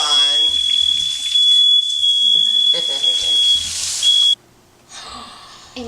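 A kitchen smoke alarm shrieks a steady high-pitched electronic tone for about four seconds before cutting off, with voices talking loudly around it.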